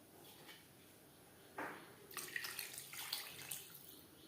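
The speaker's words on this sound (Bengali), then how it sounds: "দিয়ে দেব মশলা ধোয়া জল।" Water used to rinse spices is poured into a pan of catla fish and potato curry, a faint splashing pour starting partway through and continuing to the end, quiet and close.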